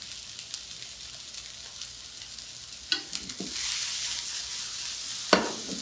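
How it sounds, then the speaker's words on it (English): Chopped scallions hit a hot pan for shrimp fried rice, a soft sizzle bursting louder with clatter of stirring and a sharp utensil knock, then a steady hiss. "Scallions going in."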